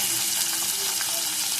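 Onions frying in oil in a pan after mustard seeds, cumin and dried red chillies, for a spinach dish; a steady broadband sizzle with faint stirring, close and continuous, no talking.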